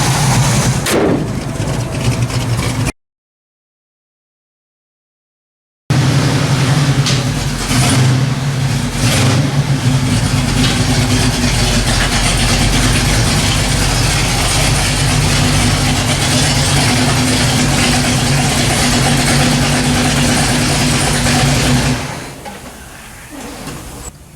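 A Pontiac 455 car engine idles steadily at a low rumble for most of the stretch, with a short silent gap early on, then drops away near the end.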